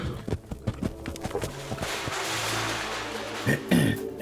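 Hooves clop a few times on hard ground, followed by a broad rushing noise and a loud snort-like burst near the end.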